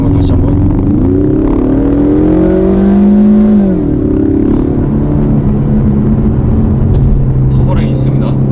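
Rear-wheel-drive Ford Mustang accelerating hard, its engine note climbing and then dropping at a gear change before settling into a steady drone, with a voice speaking over the engine throughout.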